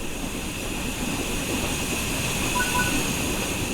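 A steady, unbroken rumble and hiss from a steam train in Train Sim World 3, played on a Steam Deck, holds at an even level throughout with no voices.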